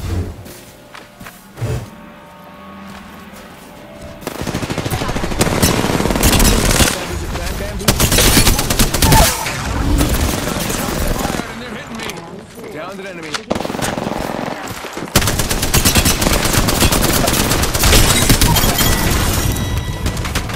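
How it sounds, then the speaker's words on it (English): Sustained bursts of machine gun fire in a shooter video game, loud and rapid, interrupted by short pauses and booms, with a voice speaking over parts of it. "Opening fire."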